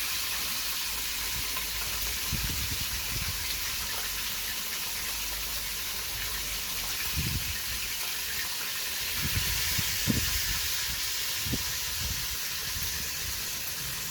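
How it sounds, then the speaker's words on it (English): Fish fries in hot oil over a high flame, a steady close hiss and sizzle with occasional louder pops and crackles, no talk. "This is the best kind of fish frying."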